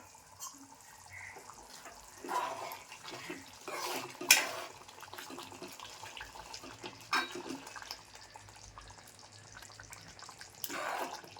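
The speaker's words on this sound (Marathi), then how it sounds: "मस्त उकळी आली ना हो" Kolambi (prawn) masala cooked Malvani style simmers in a pot, giving soft, quiet bubbling with scattered clinks and light kitchen clatter and no voices.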